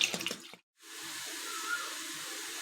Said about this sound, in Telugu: బాస్మతి రైస్, వాటర్ వేసుకొని బాగా కడగాలి.